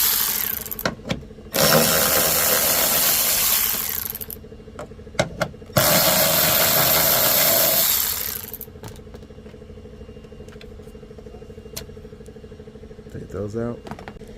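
A ratchet wrench removing 10mm bolts from a Nissan Murano brake light assembly, with two long bursts of rapid clicking ratcheting close by and a few scattered clicks and knocks in between.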